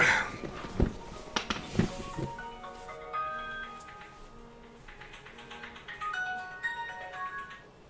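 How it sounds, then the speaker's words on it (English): A phone ringtone plays a repeating electronic melody of short beeping tones, fairly soft, after a few taps and knocks at the start, with no talking over it. "Is my phone going off there?"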